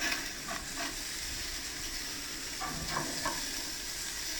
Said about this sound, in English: we're going to sear these medium rare ones for about 3 or 4 minutes per side